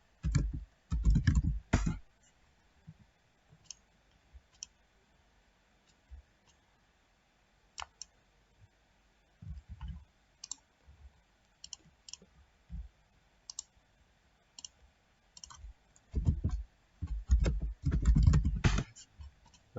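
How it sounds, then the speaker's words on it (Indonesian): Typing on a computer keyboard in bursts of quick clicking keystrokes, close and clear, separated by quiet pauses and scattered single key taps, with no talk. "Oke, kita ketik ulang saja."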